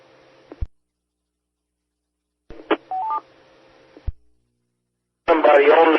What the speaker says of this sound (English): It's got the same courtesy tone as this one does now